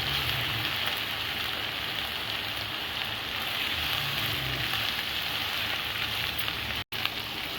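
Ginger garlic paste fries in a pan with a dense, steady hiss and crackle that stays even and close throughout, with no voices.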